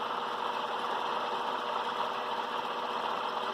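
Dual rotor magnet motor built on a test rig with back magnets, running steadily at close range with a continuous even hum and whir and no pauses or talk.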